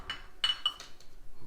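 A glass Coke bottle, the Mexican Coke kind, clinks and taps in a few short, bright, close strikes spread over a second and a half, with no talking.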